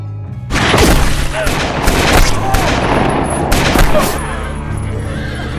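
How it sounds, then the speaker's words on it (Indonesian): Rapid bursts of gunfire crack out in a dense volley as sheriffs are shot down, loud and close, with booming reports and a horse's whinny briefly audible amid the chaos. "melesatkan tembakan yang menewaskan para sheriff"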